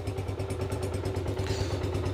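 A Honda CG 125 motorcycle engine idles close by with a steady low, rhythmic thumping and a slight mechanical clatter, alone without talk.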